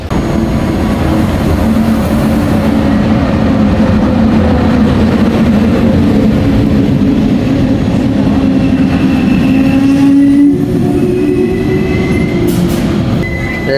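A moving train rumbles steadily and loudly from on board, with a continuous low roar, faint wheel squeal and shifting tones, and no talking.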